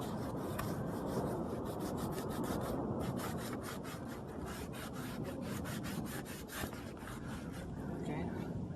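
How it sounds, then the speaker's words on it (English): Steady rubbing of a rag soaked in rubbing alcohol wiping a freshly sanded 2015 Mustang hood, close and continuous with quick back-and-forth strokes, no speech. "I just use just regular rubbing alcohol. Soak it in the rag and just clean where you sanded."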